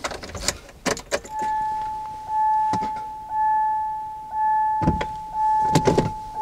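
Ignition switched on in a car with an automatic gearbox stuck in Park, giving a steady electrical whine with repeated short pulses and a few sharp clicks and knocks at the start and end, close and fairly loud.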